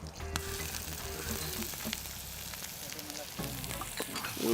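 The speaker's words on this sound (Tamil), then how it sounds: "இது பார்த்திங்கன்னா நல்லா பொரியுது." Pepper and dried chillies frying in hot oil for a chicken curry, a dense continuous crackling sizzle with a few stirring knocks, close and steady throughout.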